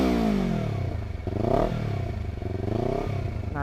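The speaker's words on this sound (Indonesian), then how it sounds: "knalpot Villan MV2 kalau pakai DB killer cuy." Honda CBR250R running a Villan MV2 carbon full-system exhaust with the dB killer installed, blipped in a few revs that rise and fall, a muffled close engine roar with slight clatter, no voices.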